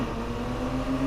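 Porsche 911 Targa 4 engine in the racing game Need for Speed Heat, a steady low idle hum with a droning tone, held evenly at moderate volume throughout with no speech.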